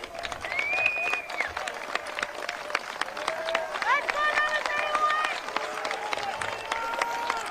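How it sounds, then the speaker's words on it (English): Crowd applauding at an amateur football game, steady clapping from fans in the stands while a voice talks over it and high whistle-like tones drift through. "There's the fans applauding the efforts of the BC Ambulance Service"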